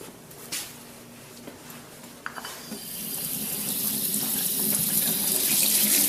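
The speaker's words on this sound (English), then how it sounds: "Let's wash them. Turn on the water." Kitchen tap turned on to wash potatoes, a few clinks and handling sounds before the water starts, then a steady, loud rushing stream into the sink, close by.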